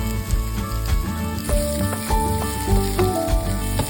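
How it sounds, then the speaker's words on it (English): Sliced mushrooms sautéing in a pan, a loud continuous close-up sizzle with crackling, under intermittent clinks and scrapes of a utensil stirring. "Sauté the mushroom until tender."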